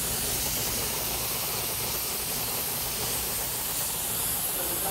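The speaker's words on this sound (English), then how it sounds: "if you spray for a long time, then basically you're gradually creating all these different layers" Continuous hiss of a spray-on fabric being sprayed to build up a T-shirt, a steady, loud, unbroken aerosol rush with no talking.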